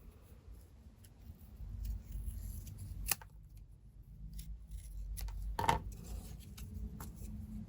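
Scissors cutting paper pieces off a handmade hardbound journal, two distinct crisp snips several seconds apart over a low, soft rustle of handling, close and fairly quiet.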